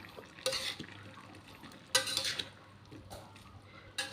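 Bitter melon and tomato stir-fry is stirred in a pan, giving a few scraping, clinking strokes of a utensil against metal over a faint sizzle, with quiet pauses between them.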